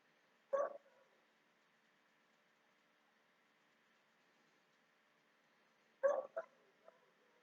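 Dogs bark outside an open window, two short sharp bursts about five seconds apart, the second followed by a couple of quicker yips, heard at moderate distance against a quiet background.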